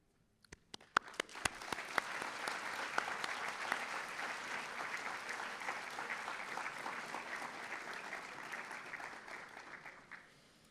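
An audience at a medical school white coat ceremony applauds. Scattered first claps swell within a second into dense, sustained clapping for about nine seconds, then cut off.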